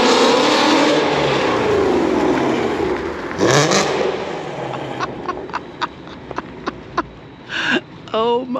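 A loud 2020 Ford Mustang GT350 V8 with catless headers and an X-pipe roars as the car accelerates, then snaps through a string of sharp pops and crackles, with people talking over it.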